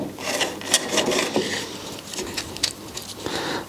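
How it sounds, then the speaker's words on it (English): Hand-chamfering a 45-degree bevel along the edges of small wood pieces for a shoji-style kumiko lamp, a close, continuous rasping and rubbing with repeated strokes throughout. "put a little 45-degree chamfer on the edge of all these pieces"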